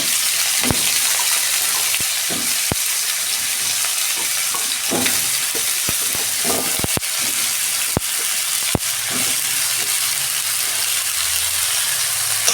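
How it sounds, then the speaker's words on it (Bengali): Carrots and potatoes fry in a little oil, with a loud, continuous close sizzle broken by sharp clacks of a utensil stirring and striking the pan at irregular intervals, and no talking. "সবজিগুলো আমি ভেজে নেবো 2 মিনিট।"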